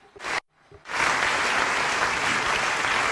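A short silence, then a crowd bursts into loud, sustained applause that fills the room and continues steadily to the end.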